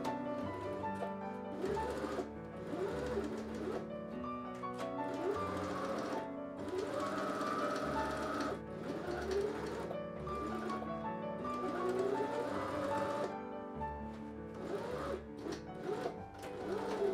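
A sewing machine stitching all the way around a fabric face mask, a steady mechanical whir in several runs with brief pauses between them, close and fairly quiet.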